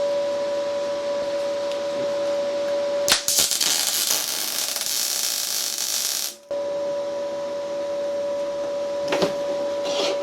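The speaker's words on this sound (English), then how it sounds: "Just tack it in with a MIG welder" A MIG welder tack welds a bolt onto a washer, giving a loud crackling buzz for about three seconds that stops abruptly, over a steady electrical hum, with another brief crackle later.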